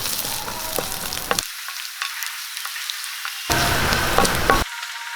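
Curry leaves, chilli, garlic and ginger fry in coconut oil while being stirred. The close, steady crackling sizzle carries scattered spoon scrapes and briefly drops to a quieter hiss before flaring up loudly again.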